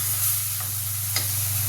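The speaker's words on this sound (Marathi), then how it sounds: "अर्धा चमचा चटणी, थोडीशी हळद, थोडं काळं तिखट. हे चांगलं परतून घ्यायचं." Chili powder, turmeric and black chili spice are sautéed in oil in a pan, giving a soft continuous sizzle with a couple of brief stirring scrapes, close and steady.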